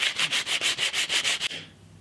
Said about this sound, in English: I now need to sand this entire thing